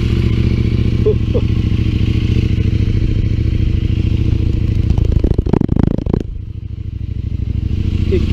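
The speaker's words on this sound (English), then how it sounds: "You gotta love the sound of that exhaust." A CF Moto MT800 Explore motorcycle with an aftermarket exhaust is ridden, its engine droning steadily and loudly close up, with a brief rough burst of rapping exhaust noise partway through.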